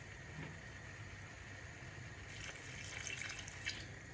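Water poured into a pot of lentil dish being cooked, a steady, fairly quiet liquid stream that grows a little busier and splashier toward the end, with no talking.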